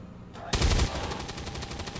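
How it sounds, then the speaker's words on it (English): Automatic gunfire from a soldier's weapon in the strategy game XCOM 2, a sudden burst of several rapid shots after a quiet moment, close and punchy, followed by ringing decay. "Oh, excellent shooting there, Tex."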